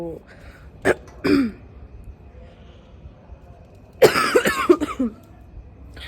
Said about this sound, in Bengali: খুব কাশছি হাওয়া দিচ্ছে তো আর বেশি কথা বলতে গেলেই কাশিটা উঠছে খুশখুশে কাশি